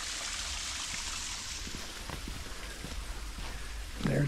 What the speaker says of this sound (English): a waterfall, stream actually, coming down the face of the mountain.